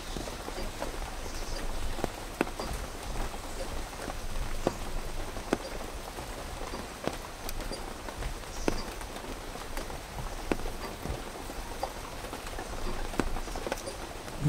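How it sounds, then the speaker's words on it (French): Steady rain falls outdoors in a farming village during a wet summer, a continuous broadband patter with scattered sharper drops, moderately loud and even throughout with no voices. "Il pleut là."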